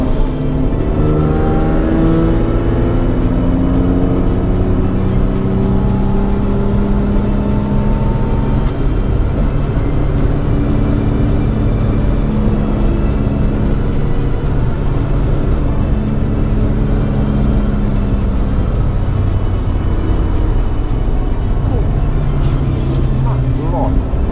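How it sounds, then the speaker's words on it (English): Cars roar along the Nürburgring, engines droning loud and close with rising and falling revs as vehicles pass, continuous throughout while a voice talks over the noise. "cars barreling up behind you at twice your speed, passing you at barely a wing mirror's width apart"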